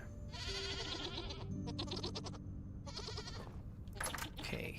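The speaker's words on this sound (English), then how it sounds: "Let's see what we got with the goats in here." Goats in a pen within a modded Vintage Story survival game let out several bleats in a row, some overlapping, clear and moderately loud with short gaps between them.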